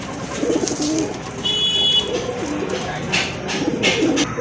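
A pair of white Lakha pigeons coo softly in low repeated throaty phrases, close by, with a brief high electronic beep and faint rustling in the background.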